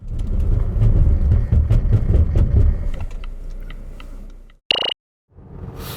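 A Volvo XC90 T6 decelerates hard during a braking test, its road and tyre rumble dying away with ticks and clunks, then a brief sharp tone and a short silence as it stops.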